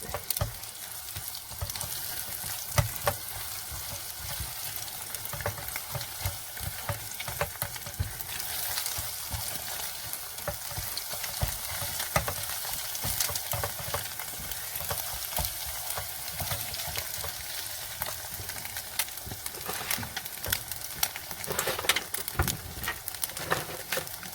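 Food frying in bacon grease in a pan, a steady crackling sizzle with scattered pops and scrapes, close and fairly loud, running throughout without talk.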